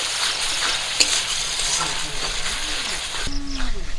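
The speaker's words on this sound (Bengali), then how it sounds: "রসুনটা দিয়ে আর একটু ভেজে নেব" Garlic paste fries in a hot pan with a loud, continuous sizzle and crackle, stirred now and then. A brief tonal sweep like a voice rises in the last second.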